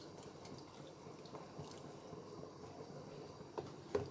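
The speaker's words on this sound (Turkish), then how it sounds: "1 çay bardağı kadar da sütümü ilave ediyorum" Milk poured into tomato soup in a pot on the stove, a soft steady liquid pour with faint splashing and a couple of brief louder drips near the end, no talking.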